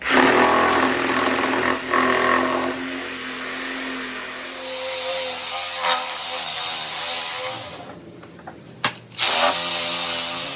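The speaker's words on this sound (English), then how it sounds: "I'm going to use a wire brush inside of my reciprocating saw." A reciprocating saw fitted with a wire brush scrubs a salvaged railroad spike, giving a loud buzzing, grinding whine that drops in pitch and cuts out briefly near the end before resuming.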